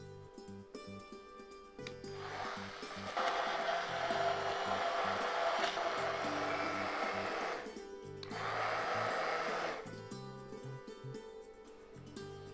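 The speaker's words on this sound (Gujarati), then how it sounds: "બ્લેન્ડ કરી લઈએ." Kitchen blender whirring through a gram flour mixture for a sweet kadhi on a cooking show, a steady loud motor drone in two bursts with a short pause between, no talking.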